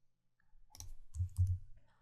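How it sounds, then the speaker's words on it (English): Two quick mouse double-clicks on a computer, crisp and close, opening a CSS file in a coding session, with faint low hum around them. "I'm double-clicking on the CSS file to open it."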